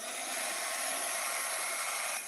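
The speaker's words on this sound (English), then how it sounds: "I might have to use the dryer for a second." A hair dryer blows at close range to dry a jelly (gel plate) print, a loud, continuous, hissing roar that runs almost the whole time and then cuts off just before the end, with no voices.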